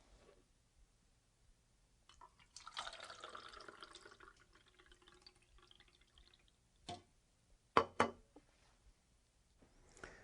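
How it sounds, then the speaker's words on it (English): Juice poured from a pitcher, heard as a quiet, thin trickle lasting a few seconds, followed by a few sharp knocks and clinks as containers are handled, all faint against near silence. "Joey, please pour the juice."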